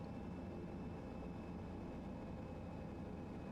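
A Piper PA28 engine idles steadily inside the Microsoft Flight Simulator 2024 game, a continuous low droning rumble, quiet and unbroken.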